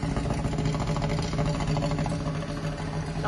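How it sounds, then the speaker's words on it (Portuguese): A Chevrolet Chevette engine with a new exhaust idles steadily, a constant, dense rumble close by with no talking over it. "Escapamento ficou top"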